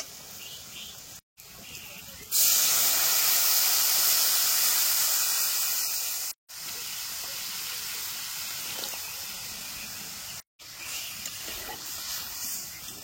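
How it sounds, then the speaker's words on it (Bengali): Rice starch water poured into a hot pan of fried ingredients in a village kitchen during a flood, giving a loud, steady hiss that starts abruptly and runs on for several seconds with brief breaks. "এবার ফ্যানটা দিয়ে দেবো।"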